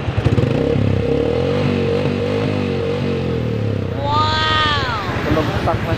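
A Yamaha FZ16 motorcycle with a Rusi Mojo 200 aftermarket muffler rumbles loudly up close, its engine note wavering before a quick rising rev near the end.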